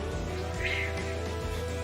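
A cat gives a single short meow, fairly faint, over a steady background hum.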